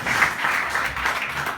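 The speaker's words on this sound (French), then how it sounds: "Et vous pouvez les applaudir" Audience members at a stage hypnosis show clap for the participants, a brief even burst of applause at moderate volume lasting just over a second.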